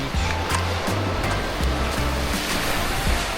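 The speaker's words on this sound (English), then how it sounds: "Wow. Clear water, white sand beach." Waves wash onto a clear-water, white sand beach in steady, rolling surf, a continuous broad roar with rhythmic low swells, fairly close and loud, with no one talking.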